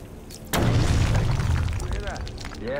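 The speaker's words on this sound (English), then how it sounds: "Probably another water pipe bursting." A water pipe bursts suddenly and loudly in Batman: Arkham Origins, followed by a rushing, gushing roar that slowly fades, with faint game sounds behind.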